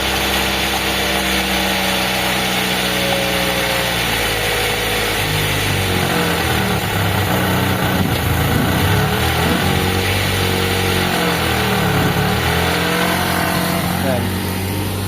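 A Nissan Sentra engine with a carburetor runs loudly at idle while the idle is being adjusted, its steady drone shifting a little in pitch over the length of the clip. Someone talks over it.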